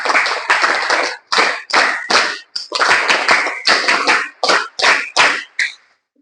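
Audience at a school welcome event for new students claps loudly in repeated bursts, several rounds of dense applause separated by short pauses.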